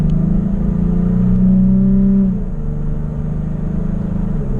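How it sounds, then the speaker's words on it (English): A 2016 Toyota Tacoma pickup with a K&N cold air intake revs up at about half throttle to around 4,000 RPM, with a throaty intake drone, then eases off into a lower steady hum. "We'll get one more acceleration here with this cold air intake."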